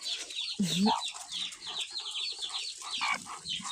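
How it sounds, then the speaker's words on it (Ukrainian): Small chicks peep in rapid, high chirps throughout, with a brooding hen's low clucking breaking in near the start, close by and fairly loud. "а там он курчатка маленькі пищать"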